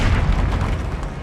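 The Confringo fire spell detonates in Hogwarts Legacy as a single loud, close, booming explosion with a deep low-end rumble that fades briefly.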